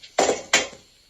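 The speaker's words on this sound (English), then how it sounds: "bashing myself in the head with this frying pan multiple times" Two sharp metallic bonks in quick succession, a frying pan striking a person's head, each ringing briefly before fading.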